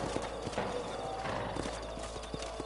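Horses' hooves clip-clop on the ground as riders dismount in the Red Dead Redemption game, with scattered close hoof strikes, a faint whinny and low ambient rumble.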